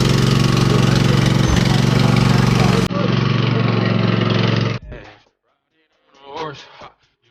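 A zero-turn lawn mower engine runs loud and steady while being ridden, then cuts out abruptly partway through, and voices talk briefly afterward.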